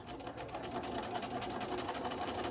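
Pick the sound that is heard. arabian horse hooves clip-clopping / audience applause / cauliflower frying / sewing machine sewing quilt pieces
sewing machine sewing quilt pieces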